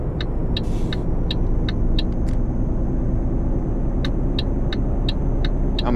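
In Euro Truck Simulator, a truck drives along the Autobahn toward Würzburg with a heavy, steady engine and road rumble. A regular series of high, evenly spaced ticks runs over it, with no speech.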